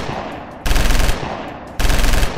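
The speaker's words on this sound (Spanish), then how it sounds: "De la nada, empiezan a llegar disparos de una metralleta destruyendo a todos los zombies" Loud bursts of rapid machine gun fire, two sustained volleys separated by a brief lull, close and harsh, mowing down zombies in a narrated Deadpool comic story.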